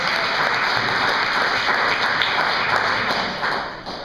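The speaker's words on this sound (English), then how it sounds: "Give them another round of applause." A conference audience applauds a lineup of speakers with a sustained, full round of clapping, close and even, tapering slightly toward the end with no talk over it.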